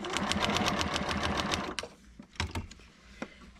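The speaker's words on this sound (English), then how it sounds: "Come on, sewing machine. Help me out." A Janome sewing machine runs in a fast, steady stitching burst for under two seconds, then stops, leaving scattered clicks and small mechanical knocks from the machine.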